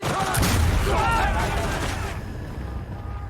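A musket volley crackles in a TV battle scene, a dense burst of overlapping shots that fades, heard under a person talking nearby.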